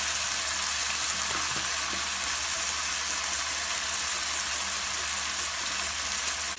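Spices and chopped tomatoes fry in a pan for a masala chicken, giving a steady, close hiss of sizzling oil with a few faint stirring knocks throughout.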